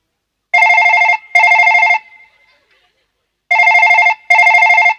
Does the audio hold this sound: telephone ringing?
yes